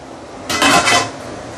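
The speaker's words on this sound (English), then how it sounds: "what I'm going to do now is to close this with a lid" A lid is set onto a pot of simmering Assam-style soon hock fish, giving one short metallic clatter that rings briefly against a quiet background.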